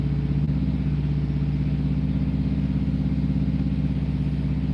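A car engine holds a steady idle-up at about 2000 RPM on its stock crank pulley, a close, continuous even hum with a light mechanical clatter and no talking.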